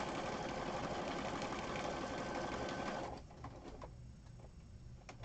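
A sewing machine stitches a small fabric scrap during a craft session, its steady whirring run loud and close for about three seconds before it stops and only quieter room sound remains.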